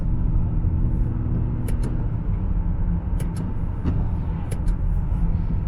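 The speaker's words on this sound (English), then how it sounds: "switch it into sport, and you can just see going through the gears." A BMW 728i in sport mode pulls through its gears, heard from inside as a steady, loud low engine and road rumble with a few faint ticks and no talking.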